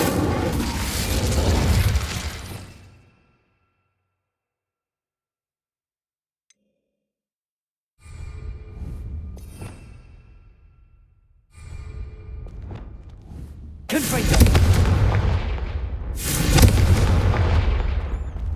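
An Incendio fire spell bursts in Hogwarts Legacy as a loud whooshing blast, followed by silence, then rumbling impacts and two sharp, booming fiery bursts near the end.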